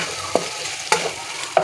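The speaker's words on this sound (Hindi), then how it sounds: "देखिए चिकन फ्राई हो चुका है।" Chicken pieces frying in a pan, a soft steady sizzle broken by three sharp scrapes of a spatula stirring at even intervals, with no voices.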